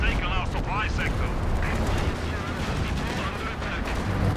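Battle noise in Company of Heroes 2 during a Stuka dive bomber attack, a dense continuous roar of gunfire and booming impacts with a voice talking over it throughout.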